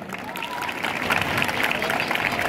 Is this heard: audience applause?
yes